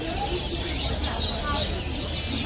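Quail and chickens at a busy poultry and bird market in Tongi, with faint chirps and calls scattered through a dense, steady crowd murmur.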